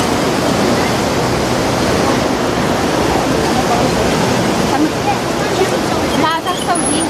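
Water pours loudly and steadily into the Grand Canal's 7th lock as the racks are opened, a dense unbroken roar with muffled voices faintly beneath it.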